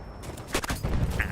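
Multiplayer gunfire in Battlefield 6: a short cluster of a few sharp shots in quick succession, mid-distance, over a low game background.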